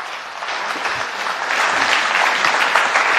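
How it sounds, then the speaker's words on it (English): Audience at a digital summit applauding, a dense wash of clapping that swells slightly and holds steady for a few seconds, fairly loud, with no speech over it. "I think she owes a big applause."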